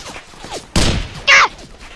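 Two sharp bursts of gunfire in a Roblox war game, a broad blast followed by a brighter, hissing shot, set against faint background game sounds.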